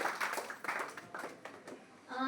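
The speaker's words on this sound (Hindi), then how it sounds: "एक बार शानदार तालियां" A seminar audience at an RCM business achievers' event gives a burst of uneven clapping that fades into scattered claps, with voices chattering over it and a short tone near the end.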